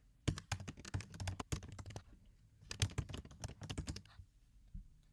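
Keys clatter on a computer keyboard as a class name is typed, two quick bursts of close, crisp clicks separated by a short pause.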